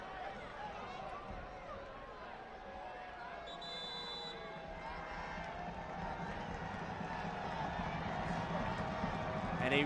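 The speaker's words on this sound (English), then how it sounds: "And a roar of applause." Crowd applause at a soccer stadium during a Richmond Kickers versus Charlotte Independence match: steady, dense clapping and cheering swelling slightly toward the end, with a commentator talking over it.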